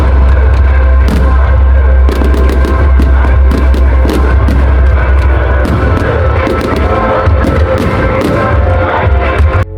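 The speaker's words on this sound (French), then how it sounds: "Puis il y a eu les feux d'artifice." Bastille Day fireworks in Montpellier, a steady barrage of loud booms and crackling bursts over a dense, continuous crowd murmur, with sharp explosions recurring every second or so throughout.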